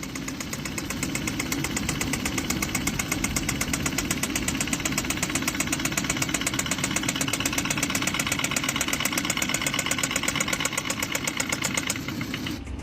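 A Kia engine at idle knocks in a fast, relentless rhythm, close and loud, the repeating clatter holding steady until it tails off near the end; no voices.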